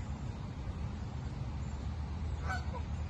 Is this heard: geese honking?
yes